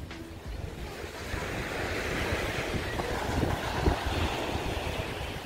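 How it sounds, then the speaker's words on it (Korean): Strong surf rolls in at Hanagae Beach on Muuido island, Incheon, with heavy wind buffeting the microphone; a continuous loud roar of waves builds and swells, with no one speaking. "아, 굉장히 파도가 심하네요."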